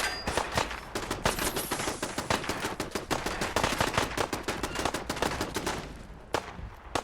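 In Fallout 4, raiders and automated turrets fire in a sustained barrage of rapid, overlapping gunshots, loud and close, that ends with a few isolated shots.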